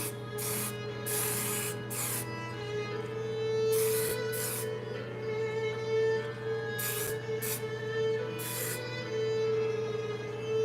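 An aerosol can of hairspray sprays in repeated short bursts over a model Sherman tank, each hiss separated by brief pauses, close and fairly quiet above a steady low hum.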